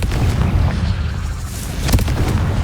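A blasting-spell explosion from the video game Hogwarts Legacy booms among rumbling combat noise, with another sharp burst toward the end and no speech.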